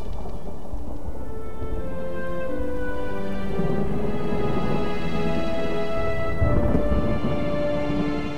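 A cartoon thunderstorm with steady rain and rolling thunder, a dense continuous wash of rainfall with low rumbles swelling and fading, close and loud with no voices.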